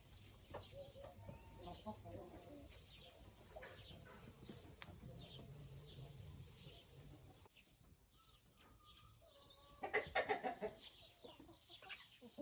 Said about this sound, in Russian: А вот эта красотка зовет индюка